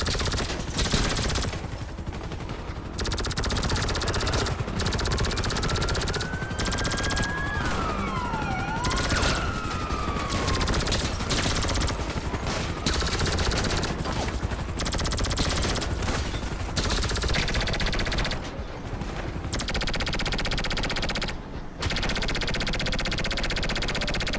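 Sustained rapid laser weapon fire in GTA 5 Online, a dense continuous stream of shots with sweeping electronic tones over it, loud and unbroken for most of the stretch.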